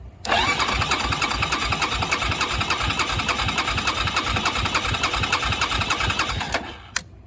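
Yamaha Grizzly ATV engine cranked by its starter with the throttle held wide open, a loud, even, rapid chugging that runs for about six seconds and then cuts off, followed by a single click.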